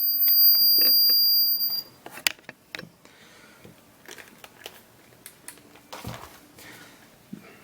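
Continuity tester beeping as its probe touches contacts on an LGB 99 6001 model locomotive during decoder installation, a steady high beep for under two seconds, followed by small clicks and handling noises.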